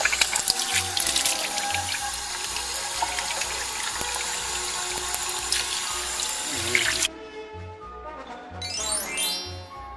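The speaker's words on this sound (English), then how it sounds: "After handling the chemicals in your lab, be sure to wash your hands and forearms before leaving." Tap water runs steadily into a lab sink during handwashing, a continuous splashing stream that cuts off near the end, leaving faint dripping and trickling.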